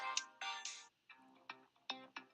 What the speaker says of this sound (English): You hear more phones ring out among the crowd